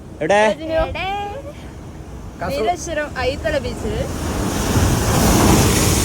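Sea surf breaking where a river meets the sea at Kasaragod, Kerala. Voices talk over the opening seconds, then a steady, loud roar of waves swells and fills the rest.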